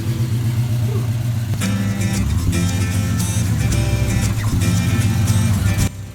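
A 1971 Chevy Custom 10 pickup truck engine rumbles and revs nearby, loud and continuous, with a few sharper bursts of throttle before cutting off at the end.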